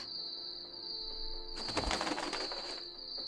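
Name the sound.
owl call, sound effect in horror story narration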